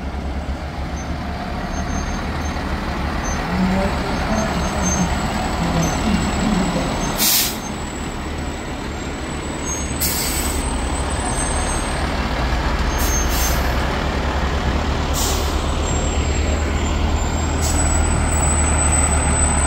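A fire engine truck rolls past in a town parade, its low diesel rumble steady beneath several sharp hissing air brake releases spaced across the passage, with no talking.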